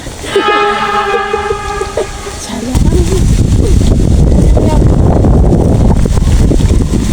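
Strong wind buffets the microphone outdoors with a loud, steady low rumble that swells and stays dense after the first few seconds, while faint tonal hums sit underneath early on.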